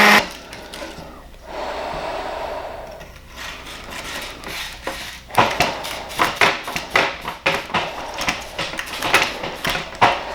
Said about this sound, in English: So this is just a random, orbital saw. I've got 100 grit sandpaper on here.